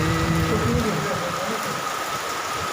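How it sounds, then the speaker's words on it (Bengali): Steady heavy rain pours down in a dense, continuous hiss, with a faint tonal hum and some indistinct voices in the first second. "মুষলধারে বৃষ্টি হচ্ছে"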